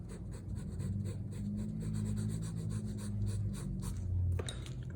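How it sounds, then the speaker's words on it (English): A 2H pencil shades on paper with soft, rapid back-and-forth scratching strokes, close and faint, in a steady rhythm, with a brief louder scrape near the end. "I'd go back in with like a 2H pencil if I think that's a little wide"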